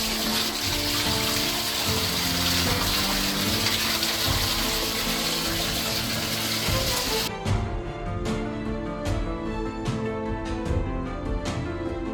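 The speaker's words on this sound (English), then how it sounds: "Rinsing the seaweed." Seaweed rinsed in water at a coastal spot: steady, close sloshing and running water for several seconds, then quieter splashes with a few small clicks and knocks.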